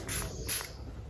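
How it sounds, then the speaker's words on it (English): Two quick spritzes of facial toner from a spray bottle, short airy hisses close to the microphone, the second slightly longer, with no talking over them. "when I spray it like this"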